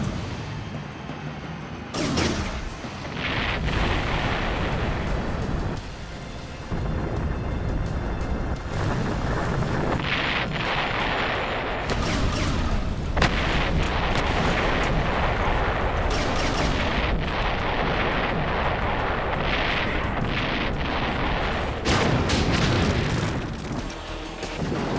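Practical explosions from a 1995 action film: loud, continuous rumbling blasts and booming bursts that fill the whole stretch with dense, roaring noise and no talk.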